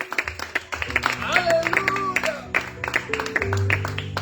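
A church congregation claps along in a worship service, rhythmic hand claps mixed with music and singing, moderately loud and continuing through the passage.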